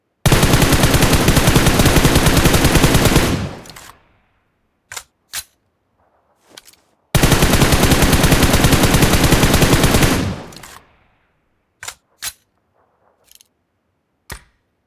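Automatic gunfire at targets in PUBG Mobile, two long sustained bursts of rapid shots, each trailing off, separated by a few sharp single shots and small clicks, loud and close.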